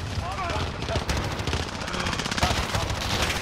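Rapid gunfire in a first-person shooter match, dense bursts of sharp shots crackling almost continuously, loud and close, with a voice talking underneath.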